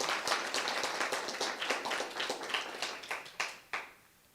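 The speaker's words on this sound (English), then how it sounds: "Round of applause" A modest round of applause from a small gathered audience, dense clapping that thins to a few last isolated claps before dying away.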